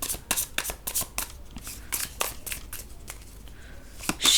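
Tarot cards shuffled by hand, close and crisp, in quick riffling bursts with short pauses between them, ending with a louder flurry; no one speaks.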